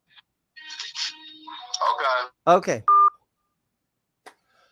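Telephone tones during a call: a short burst of rising electronic beeps and garbled voice, then a steady tone pair like dialing, followed by a brief spoken word and silence.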